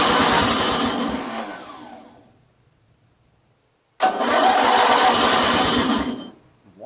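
A Briggs & Stratton 16HP opposed twin engine cranks loudly for about two seconds and winds down, falls silent, then cranks again with a sudden rough start attempt, close up.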